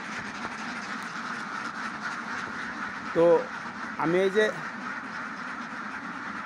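Ducks on a pond-side duck farm give a few short, loud quacks in two brief bursts, heard between stretches of someone speaking.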